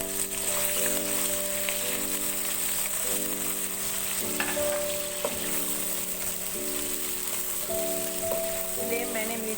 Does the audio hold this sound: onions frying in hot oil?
yes